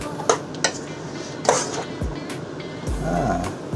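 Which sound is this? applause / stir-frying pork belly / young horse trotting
stir-frying pork belly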